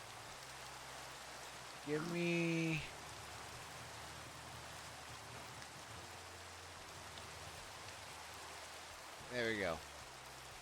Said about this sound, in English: Oh, I haven't had rain in this mod.